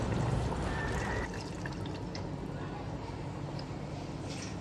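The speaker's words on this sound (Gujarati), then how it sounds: "રસાવાળું શાક કરવું હોય તો પાણી થોડું વધારે નાખવાનું ને." Water pouring into a pot of green val beans for a Gujarati curry, a steady close splashing gush that drops slightly in level after the first second, with no clear talk.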